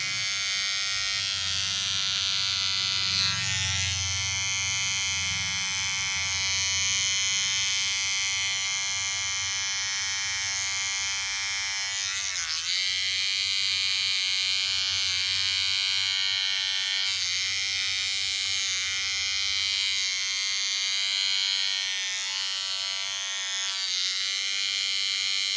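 An electric eyebrow trimmer fitted with a guard buzzes continuously up close, a steady high whine whose pitch shifts slightly as it moves against the brow hair.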